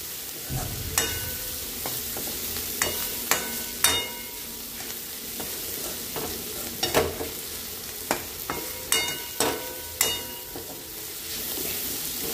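Masala frying in oil with tomatoes and onion for bombil rice, a continuous low sizzle broken by a dozen or so sharp spatula scrapes and taps against the pan, close and without talk.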